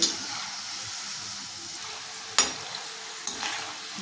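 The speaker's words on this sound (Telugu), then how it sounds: "ఇట్లా చక్కగా గోల్డ్ కలర్ వచ్చేంత వరకు వేయించుకోవాలండి" Rice-flour gulla snacks deep-frying in hot oil, a continuous bubbling sizzle broken by two sharp scrapes of a stirring spoon against the pan.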